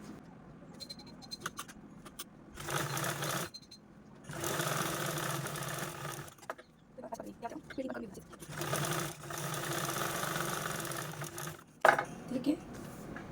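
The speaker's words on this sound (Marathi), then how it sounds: "यावरती आपण चारही बाजूने स्टिच करून यावरती क्विल्टिंग पण करून घेऊया" A sewing machine stitches and quilts velvet fabric in several sustained whirring runs separated by pauses, close up, with quiet talk in the gaps.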